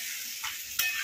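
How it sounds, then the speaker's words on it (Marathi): Bitter gourd mixed with masala frying in a pan, a close, steady hissing sizzle broken by two quick stirring scrapes. "आता हे मस्त फ्राय करायची. कारल्याची भाजी सगळी मिक्स केली."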